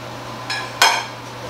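A spatula or spoon works through chocolate chip muffin batter in a bowl, making two quick clinks against the bowl's side, the second one louder, over a quiet low hum.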